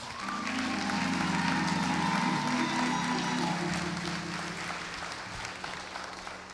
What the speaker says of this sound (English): you ought to give yourselves a round of applause